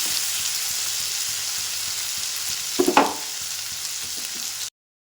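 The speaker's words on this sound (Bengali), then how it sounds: "এবার এর মধ্যে দিয়ে দিলাম অল্প একটু গোটা জিরে, দিয়ে ভালোভাবে নাড়াচাড়া করে নিচ্ছি।" Whole cumin seeds stirred into softened, melted tomato frying in a pan for a vegetarian okra dish, giving a steady close hiss of sizzling oil with a short burst of scraping and stirring near the middle before the sound cuts off.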